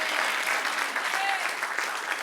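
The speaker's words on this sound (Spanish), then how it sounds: "Dale otro aplauso al que reina." Sustained applause from a church congregation, a steady dense wash of many hands clapping at moderate distance with no pauses.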